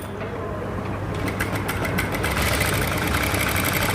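A sewing machine stitches a blouse along the sleeve and shoulder seam near the neck. It whirs steadily and close up, with no pause.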